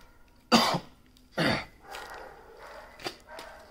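A person sick with a cough and fever coughs twice, sharp and loud, at an outdoor graveyard, followed by fainter throat noises and shuffling.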